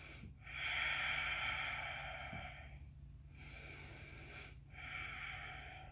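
Deep, slow breaths during a yoga high lunge in a teen yoga session, long airy inhales and exhales close to the mic, roughly three breaths with short pauses between, no talking.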